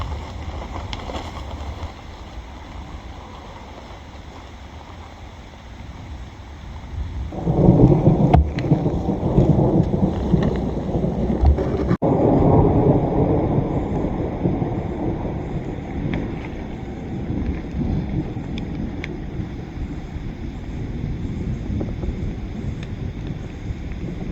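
Heavy rain pours on a tarp shelter at a camp during a tornado-warning thunderstorm, a steady broadband wash that swells loudly partway through with low rumbling thunder, wind buffeting the microphone throughout.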